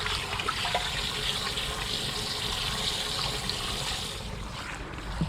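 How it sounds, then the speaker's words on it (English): Water pours steadily into a tub being filled for washing a quilt, a continuous close rushing splash that eases slightly toward the end. "Now we're going to go ahead and fill up this tub"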